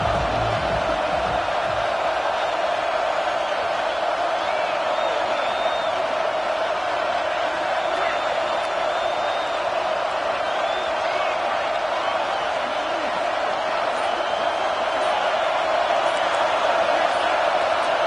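A stadium crowd roars and cheers through a college football video game as a third-down play builds, a steady, dense wall of noise that holds at an even level for the whole stretch.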